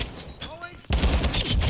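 Gunfire in Call of Duty, heard as a loud, dense burst of rapid shots that starts abruptly partway through, with a quieter stretch of game sounds and voices before it.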